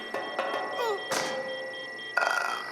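A video game character falls with a dull thud amid clicks and short electronic tones, followed by a brief ringing chime near the end, all close and moderately loud.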